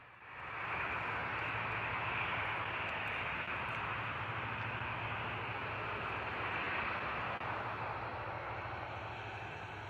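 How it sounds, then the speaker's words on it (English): An easyJet Airbus A320 departs Bristol Airport with a jet roar that swells within the first second into a dense, steady hiss-and-rumble and holds close and strong, tapering only a little near the end. "Beautiful departure there from the EasyJet A320."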